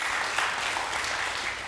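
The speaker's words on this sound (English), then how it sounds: "We can clap for that." A church congregation claps in a brief, steady burst of applause during a sermon, moderately loud with no speech over it.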